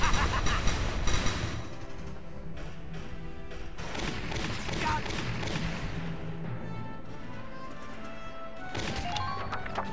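Video game gunfire from Valkyria Chronicles crackles in rapid bursts during a battle, dense volleys and sharp shots layered with crashes, strongest at the start and continuing at a moderate level throughout.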